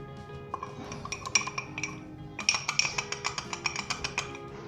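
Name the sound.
fork mixing cake batter in a bowl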